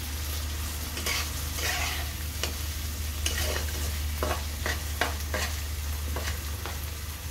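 Mixed Chinese-style fried rice ingredients with tomato sauce and vinegar sizzle steadily in a pan, with repeated scraping stirs cutting through at an irregular rhythm, close and moderately loud with no talking.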